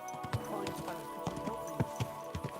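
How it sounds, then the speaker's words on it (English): Horse hooves clip-clop in an uneven, sharp rhythm close by at night while a rider murmurs to the animal over steady background noise. "Easy, good horse."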